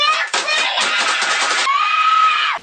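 A group of people scream loudly and continuously in a played clip, a dense, sustained high-pitched wail that holds steady and then cuts off abruptly near the end.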